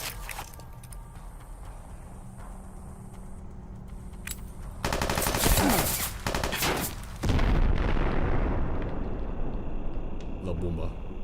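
Assault carbine fire in Fallout New Vegas: loud, close bursts of rapid automatic shots break in after a quieter stretch, then continue in heavy sustained volleys.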